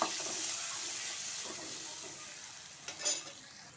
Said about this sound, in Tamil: இப்போ நம்ம அரிஞ்சு வச்சுருக்க வெங்காயம் தக்காளி பூண்டு இஞ்சி இதை எல்லாத்தையுமே சேர்த்து ஒரு வதக்கு வதக்கிக்கலாம்